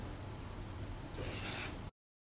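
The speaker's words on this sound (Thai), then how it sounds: "ก็เวลาฉีดเราจะเปิดผมขึ้นแบบนี้แล้วก็ฉีดใต้ผมเอานะ" A brief hiss of hairspray bursts out close by, sprayed under lifted hair, for about half a second against a quiet background hiss, then cuts off.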